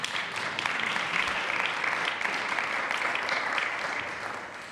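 A conference audience applauds loudly and steadily for nearly five seconds, a dense, sustained wash of clapping that eases slightly at the end.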